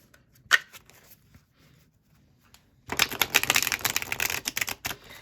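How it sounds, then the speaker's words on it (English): A quick flurry of tarot cards riffling and slapping together, a fast crackling shuffle up close after a quiet moment with a single tap. "This shuffle is phenomenal."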